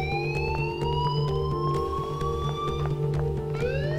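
Loud, continuous alarm siren in the Life is Strange video game, rising wailing tones repeating over a steady humming drone, with no talking.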